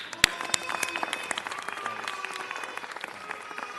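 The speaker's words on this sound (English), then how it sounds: "So let's give a round of applause to our great controller, Ron Galbraith." Audience applause at a city council meeting, a sharp loud clap up front followed by a steady patter of many hands that gradually thins out, with a murmur of voices beneath.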